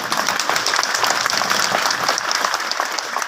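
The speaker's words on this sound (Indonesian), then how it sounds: "Yang mulia, tepuk tangan untuk Tuhan Yesus." A Papuan congregation at a West Papua declaration gathering applauds for Jesus, a loud, dense wash of clapping from a large crowd that holds steady throughout before cutting off abruptly.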